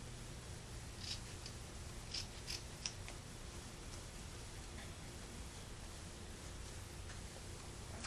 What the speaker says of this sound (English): I am just going to use my scissors.